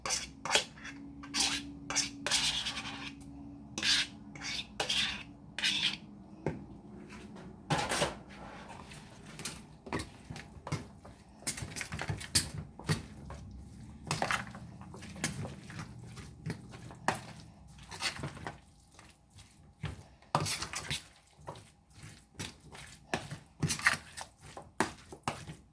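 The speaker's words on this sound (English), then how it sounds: "Make sure the meat get mixed up with the seasoning and stuff" Chicken salad meat being stirred with seasoning and mayonnaise in a bowl, giving repeated close clinks and scrapes of a utensil against the dish, with soft wet squishing between the strikes, steady and busy throughout.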